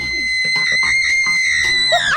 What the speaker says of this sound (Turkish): Deli gibi bağırmayı kes.